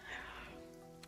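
Steady hiss of rain falling during a funeral cutscene in the game Path to Nowhere, a soft continuous wash with a faint low musical drone under it.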